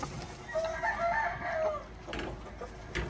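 A rooster crows once, fairly close and clear, a drawn-out call of about a second over a low farmyard hum, followed by a few softer clucks and rustles.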